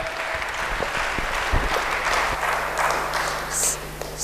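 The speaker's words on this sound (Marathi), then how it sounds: "आपण जोरदार टाळ्या एकदा वाजवाव्यात." Applause from the audience at a comic poetry gathering in Ambajogai, a steady roar of clapping that sustains throughout and stands alone without speech.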